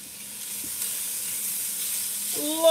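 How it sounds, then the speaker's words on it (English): Steady bright sizzling of bacon fat frying in a pot, a constant hiss close up that swells slightly near the end. "Listen to that sizzle"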